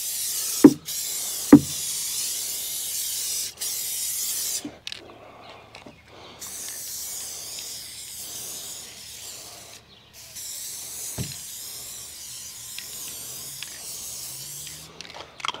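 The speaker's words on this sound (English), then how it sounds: "we're gonna go ahead and spray the inside" Bursts of spray adhesive hiss on and off, long sustained sprays broken by short pauses, with occasional clicks and light handling noises between, while building a disc golf cart.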